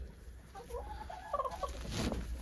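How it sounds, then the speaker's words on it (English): Chickens cluck softly at a moderate distance at a snowy off-grid cabin in northern Minnesota in winter, a few short calls rising over a quiet outdoor background. "Chickens"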